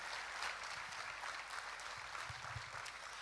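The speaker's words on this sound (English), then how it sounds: "A round of applause for Pennifer for that elaborate presentation" An audience claps at a conference, a dense, steady wash of applause from many hands, fairly quiet and continuous throughout.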